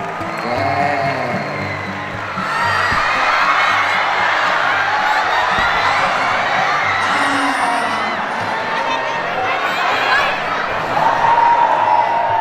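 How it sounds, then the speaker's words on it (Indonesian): Crowd applause with cheers and whoops from young students at a santri camp event at an Islamic boarding school, steady and loud throughout, with a brief surge of clapping near the end. "Tepuk tangan dong."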